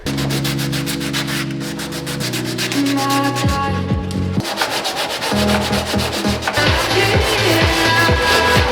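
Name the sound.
sanding a fiberglass-reinforced car bumper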